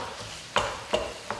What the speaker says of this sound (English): chopping ground beef or sausage or something like that.